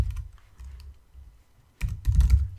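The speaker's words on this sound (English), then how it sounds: "So we'll just type" Someone types on a computer keyboard while coding an iOS app in Swift, with a few quick faint keystrokes followed by a denser, louder burst of clicks.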